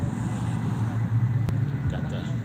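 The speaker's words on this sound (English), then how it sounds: "Got the pickup trucks rolling in." Pickup trucks roll slowly past at an evening car show, a low engine rumble that rises and falls with passing traffic, while people talk nearby.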